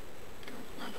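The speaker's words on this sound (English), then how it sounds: "There's a bee on your arm looking for a place to get in." Honey bee buzzing near a person's arm during a midsummer hive inspection, a faint, steady insect drone of about a second set against outdoor background noise.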